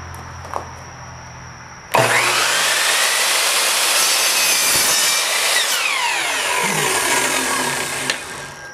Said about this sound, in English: Now we have to cut a miter right on this direction.